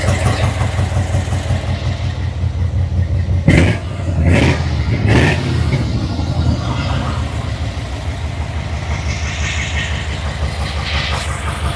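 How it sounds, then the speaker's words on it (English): A deep square-body pickup truck engine idles steadily and loudly through a new budget exhaust, with a low throbbing exhaust rumble and a few brief clunks near the start; no one speaks. "as you can probably hear behind me, the exhaust is finally done on this truck"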